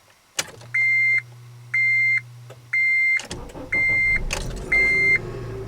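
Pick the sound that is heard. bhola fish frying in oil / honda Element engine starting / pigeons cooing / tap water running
honda Element engine starting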